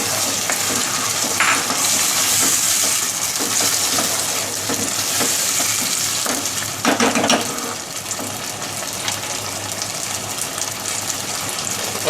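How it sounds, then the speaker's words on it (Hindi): Ketchup is stirred into fried ginger and garlic in a hot pan, giving a loud, continuous sizzle with intermittent scraping and stirring noises close by. "अब इसके अंदर हम केचप ऐड कर देंगे और इसको अच्छे तरीके से मिक्स कर लेंगे।"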